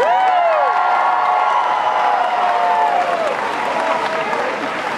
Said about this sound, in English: He's about to retire soon, so give him a big round of applause.